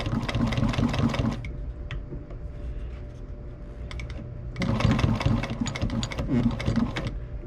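A sewing machine stitches upholstery for a 1966 Ford Galaxie 500 convertible, running in two close, rapid bursts of needle chatter separated by a quieter pause with a faint hum.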